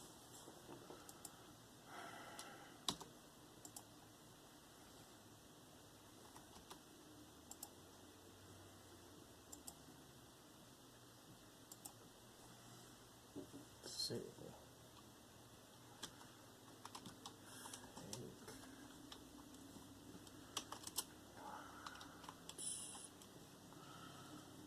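Very faint computer keyboard typing comes in scattered bursts of soft key clicks over a steady background hum, with no voice.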